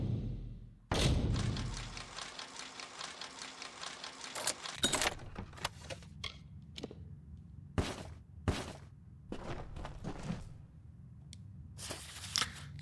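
Keys being picked up in the video game Kingdoms of Amalur Re-Reckoning: a burst of metallic jangling followed by scattered thumps and clicks against a steady game backdrop.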